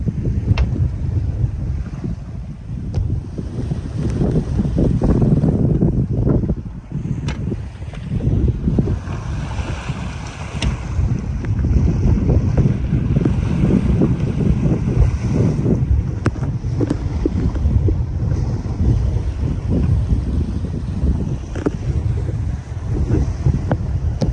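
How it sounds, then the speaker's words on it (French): A small sailboat runs on its genoa alone in a 20-knot Force 5 wind off Greece, making about 6 knots, with loud, constant wind buffeting the microphone over rushing water and hull noise. "Un petit Fort 5 avec 20 nœuds de vent et on file à 6 nœuds."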